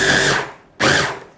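Two loud bursts of a kitchen blender blitzing limes, ginger, garlic and chili, each a short whirring run of under a second with a brief gap between them.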